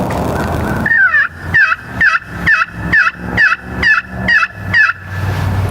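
A turkey pot call plays a run of about nine loud, close yelps, each a rising-falling rasp in an even rolling rhythm after a brief lead-in, with no talking.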